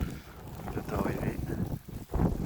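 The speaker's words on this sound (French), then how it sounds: "tu tombes pas quoi, tellement le vent il est fort, il est puissant" Strong, powerful wind gusting across an exposed slope on the way up to a mountain chalet in Georgia, roaring steadily into the microphone with rumbling buffets and a brief lull near the end.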